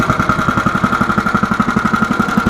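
A Honda GX small gasoline engine running on stale fuel, idling with a fast, even chugging pulse and steady mid-pitched drone, loud and close throughout.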